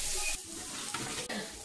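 Vegetables for fried rice frying in a pot with a little salt, a steady loud sizzle with a couple of faint stirring scrapes, no voices.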